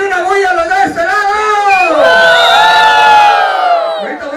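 A large festival crowd in Uripitio, Michoacán, on December 14, 2010, shouts and cheers loudly in a sustained roar of overlapping voices and whoops that swells toward the middle and continues without pause.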